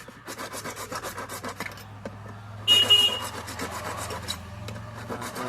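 A hard plastic water container is cut with a blade, making repeated rasping, rubbing strokes up close, with a brief louder scrape partway through.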